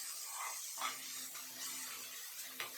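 Onions, green chilies and whole spices such as fennel seeds, star anise and cardamom fry together in oil in a pan, giving a steady soft hiss and sizzle. The sound is quiet and even, with a few faint crackles.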